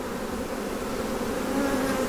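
Honey bees hum densely around an open hive during a beekeeping check, a continuous close buzzing drone with no break and no voices.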